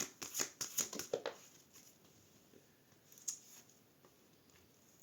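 Tarot cards being cut and riffled, a quick burst of crisp card flicks and slaps up close, then quiet with a single later snap.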